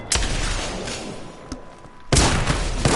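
Shotgun blasts in the Apex Legends battle royale game, with a loud boom at the start and another heavy blast near the end over steady in-game noise, no talk.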